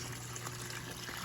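Backyard pond waterfall at night, a steady close splash and trickle of water pouring without pause, with no voices.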